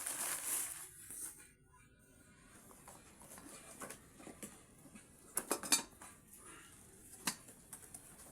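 A newly bought metal cooking pot handled and tapped in a kitchen, scattered light clinks and clanks over a faint background, quiet and close with irregular spacing.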